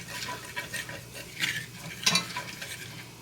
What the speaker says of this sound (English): You want to get that roux cooked.